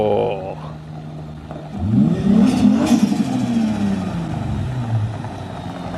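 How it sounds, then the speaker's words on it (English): A race car passing by outdoors, its engine note rising as it approaches and then sliding down as it moves away, loud for a few seconds and fading, with no talking over it. "I hear a race car coming."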